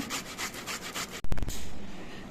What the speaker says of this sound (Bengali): আদাটা আমি ঘষনিতে ঘষে নিয়েছি